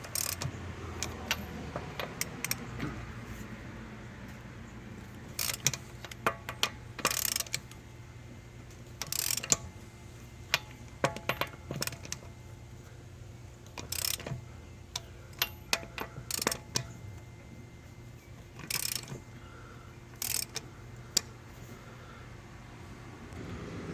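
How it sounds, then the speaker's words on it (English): Lug nuts on a 2013 Hyundai Sonata are broken loose with a wrench, giving sharp metallic clicks and ratcheting snaps in irregular bursts against a quiet garage background. "We're going to go ahead and break our lugs loose."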